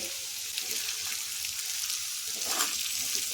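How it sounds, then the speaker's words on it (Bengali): Ginger fries in a pan over a raised gas flame, giving a steady, fairly faint sizzle with soft hiss throughout and no talking. "আদাটা 2 মিনিট ভেজে নিলাম।"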